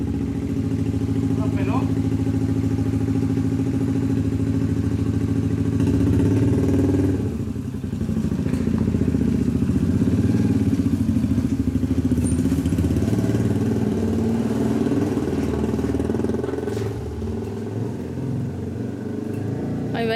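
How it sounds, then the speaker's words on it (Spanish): A motorcycle engine idles with a low, steady rumble, its pitch dipping briefly midway, while people talk nearby. "Ese, mijo, ese es la moto"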